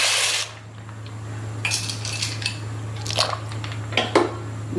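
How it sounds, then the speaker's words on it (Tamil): Dry pasta drops into a pan of boiling water for a creamy pasta dish, making scattered light clatters and clinks against the pan over a steady low hum. "இந்த டைம்ல இந்த பாஸ்தாவை இதுல போட்டுடலாம்."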